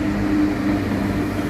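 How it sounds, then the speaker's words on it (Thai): Train arriving at and departing from a Paris station, a steady loud low rumble with a droning hum of wheels and motors, continuous and close, with no talk. "มีรถไฟเข้ามาออก"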